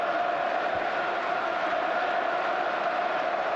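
Football stadium crowd at a Newcastle United match, a dense, steady roar of many voices, distant and continuous without distinct peaks.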